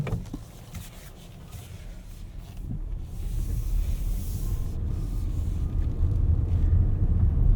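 A 2024 Lexus TX 500h F Sport Performance AWD hybrid drives on the road at night, a steady low cabin rumble with road and wind noise that swells gradually and stays broad and even throughout.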